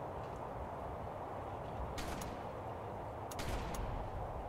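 Cannon fire during a raid in the video game ARK Genesis: two sharp bursts of shots, one around the middle and a double one near the end, over a dense steady background of game noise.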